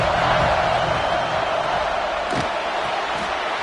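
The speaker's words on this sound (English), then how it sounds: "Decibels rising as the crowd gets behind this defense on 3rd down." Dense stadium crowd roar in a college football video game, loud and sustained across the clip with a brief thump partway through.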